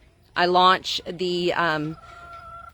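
A chicken on a homestead in Taft, Texas, calls loudly and close near a garden fence line, a strained, crow-like call lasting over a second, then trails off into quiet.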